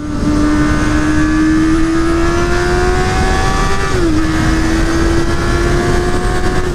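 A 2019 Honda CB650R four-cylinder motorcycle engine screams at high revs above 7000 rpm, pitch climbing steadily, dipping briefly at a gear change, then holding loud and close.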